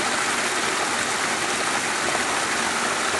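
Fresh mountain spring water flows at Madhe Ghat, a close, steady rushing hiss of running water that holds evenly without a break.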